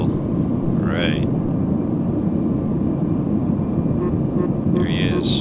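Airplane engine drones steadily through an air battle in a video game, a constant roaring hum with brief chirping effects at the start and end.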